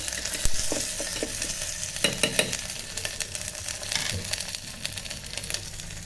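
Ginger garlic paste and fried onion sautéed inside an electric kettle give a steady sizzle and crackle. Several sharp scrapes of the stirring spoon cut through the frying.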